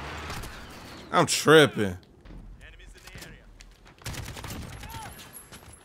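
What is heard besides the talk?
gunfire in video game Call of Duty Modern Warfare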